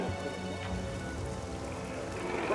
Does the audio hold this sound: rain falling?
yes